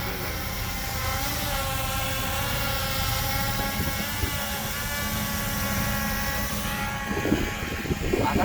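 A hobby drone flying outdoors in strong wind gives a loud, continuous buzzing whine from its propellers. The hum stays close and steady throughout, with a slight shift near the end.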